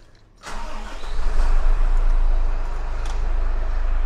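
Isuzu FVR34 fire truck diesel engine starting: a brief crank, then the engine catches and settles into a loud, steady low rumbling idle, close up with no talk.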